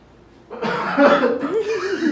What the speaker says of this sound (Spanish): Le pedimos a la persona que tosa, tose.